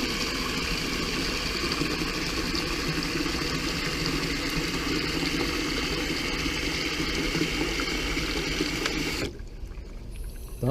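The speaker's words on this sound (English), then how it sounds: "I'm going to turn the water on." Water gushes steadily through a Bhyve WiFi hose faucet timer into a bucket with a constant rushing hiss, loud and close, before cutting off abruptly near the end.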